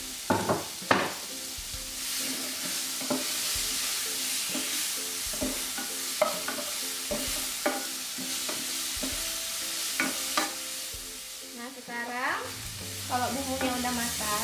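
Tomatoes added last to a pan of spiced shrimp, tofu and basil soup base, stirred and sizzling steadily in hot oil, with repeated scraping strokes of a utensil close up.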